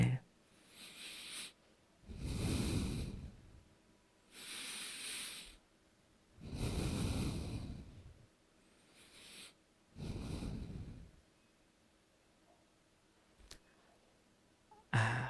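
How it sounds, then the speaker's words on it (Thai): Slow, deliberate breaths drawn in and let out through the nose during a guided breathing exercise, several long airy inhale-exhale swells in a steady rhythm, close and soft, with no talking. "หายใจธรรมดา เข้าทางจมูกออกทางจมูกสิบครั้งขึ้นไป"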